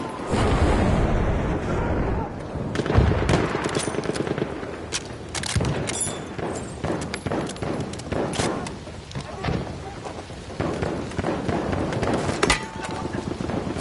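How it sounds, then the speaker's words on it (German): Enemy machine gun fire in the World War I shooter Battlefield 1, loud rapid bursts and scattered gunshots amid ongoing battlefield noise and explosions, with voices calling out over the fighting. "Feindliches Maschinengewehr!"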